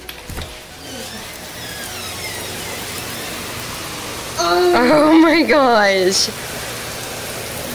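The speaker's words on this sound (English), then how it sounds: "How can it not rain in the house?" Heavy rain pours steadily outside an open door, a dense hiss throughout, with excited voices briefly speaking over it midway.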